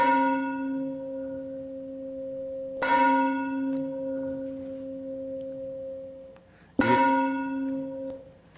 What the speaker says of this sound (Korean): 이 종소리는 1951년 우리 교회에 설치됐던 종소리입니다